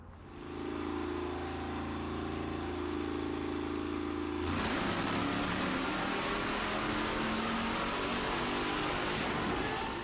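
A car engine on a dynamometer drones steadily, then surges into a loud, sustained high-revving roar that holds for several seconds, close and without talk.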